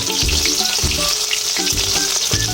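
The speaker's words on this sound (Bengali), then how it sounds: "মাছগুলো আমার ভাজা হয়ে গেছে," Fish frying in a hot pan of oil, a loud continuous sizzle with bursts of spatter and crackle pulsing every second or so, close and alone.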